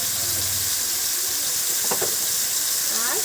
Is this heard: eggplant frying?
yes